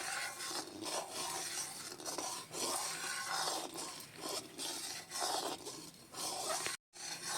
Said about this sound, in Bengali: ভিনেগার আর জলটা একসঙ্গে একটু মিশিয়ে নিচ্ছি, নিয়ে এবারে এইভাবে দিয়ে আর নাড়তে থাকবো।